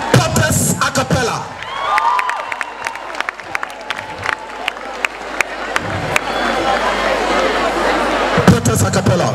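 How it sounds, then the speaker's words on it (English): An audience at a girls' excellence awards ceremony cheers, whoops and applauds loudly throughout, a crowd of voices and clapping filling the hall with a few sharper shouts rising above the babble. "So, with a round of applause, let us welcome Papas A Cappella."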